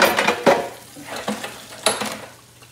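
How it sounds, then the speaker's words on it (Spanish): A blender is washed in a kitchen sink, with hard clatters and knocks of the jar and dishes against each other over running water, close and irregular. "estoy lavando mi licuadora"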